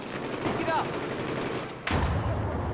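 Bursts of rapid gunfire in Battlefield 4 close-quarters combat on Operation Locker, dense and loud, with a sharp crack near the end and game noise throughout.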